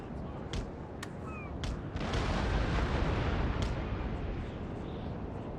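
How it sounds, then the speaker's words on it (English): Cannon artillery fire from ships in Napoleon: Total War, heard as a dense rumbling barrage of booms with a few sharper cracks standing out, continuous and loud throughout. "I think with like one cannon hit the mark."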